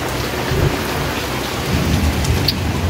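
Heavy monsoon rain drums loudly and continuously on surfaces while deep thunder rumbles roll through twice, close and strong, with no voices over the downpour.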